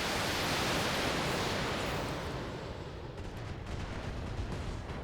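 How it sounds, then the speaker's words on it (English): Weapons fire from a precision strike in the mech video game Battletech: a loud, continuous roar of broadband noise that fills the whole clip, easing slightly midway with rumbling crackle underneath. "Do a precision strike. Center torso. Fire."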